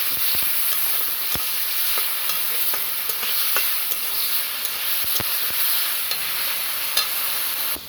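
Salted potatoes frying in a wok are stirred with a utensil: sharp scraping clicks repeat at an uneven pace over a constant close sizzling hiss, with no talking.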